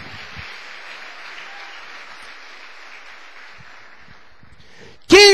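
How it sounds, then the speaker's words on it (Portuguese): Soft, diffuse applause from a church congregation holds steady for about five seconds, then cuts off as a loud voice bursts in at the very end. "Outra salva de palmas pela sua vida"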